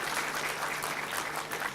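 Lecture audience clapping to welcome an ambassador, a dense, continuous round of applause from a sizable crowd, steady and moderately loud with no voices over it.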